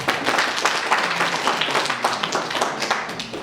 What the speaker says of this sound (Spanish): al cual también recibamos con un fuerte voto de aplauso